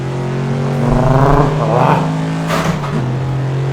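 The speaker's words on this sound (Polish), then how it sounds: "Te silniki to trzeba przyznać, że mają fajne." A car engine revs on the Nürburgring circuit: a loud, close, steady droning idle swells into a quick rising rev, then settles back to a rumble.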